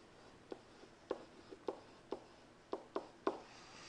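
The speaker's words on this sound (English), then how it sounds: "So let me write that down." Pen or marker writing notes during a probability lecture: a quiet, irregular series of about nine short scratchy taps and strokes spread over a few seconds, close by, with no talking.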